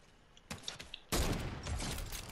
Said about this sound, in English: Got the heavy sniper gun.